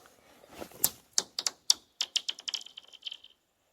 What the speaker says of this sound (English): gonna throw a rock, and it's gonna make a cool sound across the lake